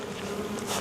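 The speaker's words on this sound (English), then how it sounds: "Get this bee out the way." Honeybees buzz close by during a beehive brood inspection, a continuous droning hum with a bee swelling louder as it passes near.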